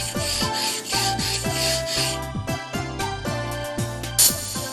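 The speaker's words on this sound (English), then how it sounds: "When sharpening a fish slicing knife, press the blade cutting edge close against the whetstone." Fish slicing knife drawn back and forth across a Japanese whetstone in steady, rhythmic strokes, each pass a close, gritty scraping rub repeated about twice a second.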